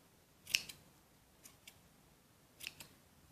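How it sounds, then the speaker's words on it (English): Scissors trimming the yarn of a crochet pom-pom, a few quiet close snips in two small clusters with soft pauses between, no talking. "You can fix it now with your scissors."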